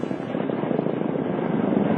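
Black Shark attack helicopter: a steady, dense rotor and engine roar with rapid pulsing chop, loud and continuous throughout, no talking.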